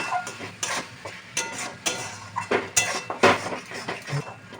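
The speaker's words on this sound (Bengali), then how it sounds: "ধনের গুঁড়ো জিরের গুঁড়ো দিয়ে আবার ভালো করে নেড়ে দেবো" Metal utensils scrape and clink against a pot while mutton pieces are stirred with coriander and cumin powder for a ghugni masala, an uneven run of close scraping strokes and knocks without talk.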